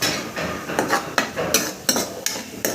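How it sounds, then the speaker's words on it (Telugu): Onion paste frying in a pan after ginger-garlic paste for a South Indian vegetarian curry, with a spoon scraping and clacking against the pan in irregular strokes over a soft sizzle. "ఇది బాగా వేయించాలి కలిపి."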